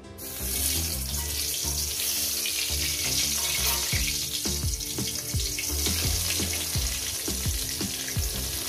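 Eggplant pieces dropped one by one into hot oil give a dense, continuous sizzle with crackling pops that stays close and loud throughout.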